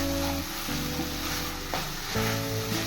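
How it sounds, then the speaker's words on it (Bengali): Prawn filling for potol dorma (stuffed pointed gourd) sizzles steadily while being stirred in a pan, with close, continuous frying crackle and occasional scraping shifts. No voices are present. "7 মিনিট এভাবে নেড়ে চেড়ে পুরটা রেডি করে নেব।"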